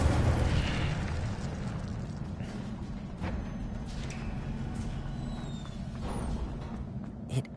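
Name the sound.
Incendio fire spell in video game Hogwarts Legacy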